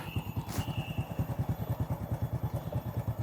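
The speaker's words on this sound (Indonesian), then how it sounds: "Oke, motornya bunyi aja ya." A Honda Karisma 125 motorcycle idles nearby with a rapid, even, throbbing putter. The thumping pulses repeat steadily through the whole short stretch.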